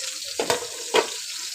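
Fish sizzle in a frying pan with a soft continuous crackle, broken by two brief louder bursts of spattering as the pieces are stirred or turned.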